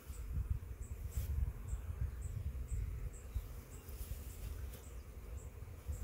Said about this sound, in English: All the worker bees are girls, so they're all named Honey.